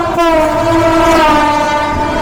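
Dhaka Mail passenger train pulling into a station, a loud sustained horn with stacked harmonic tones sounding over steady rolling wagon rumble for the whole stretch.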